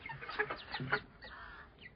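A rooster and hens cluck close by in a farmyard with ducklings and rabbits, a busy run of short overlapping clucks and squawks with no talking.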